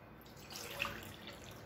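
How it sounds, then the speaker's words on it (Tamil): Water is poured from a tumbler into a pot of roasted rice and lentils for ven pongal, a faint, soft splashing pour lasting about a second in a quiet kitchen. "இது வந்து 3 டம்ளர் தண்ணி ஏற்கனவே நான் எடுத்து வச்சுருந்தேன் இப்போ அதை சேர்த்துக்கலாம்"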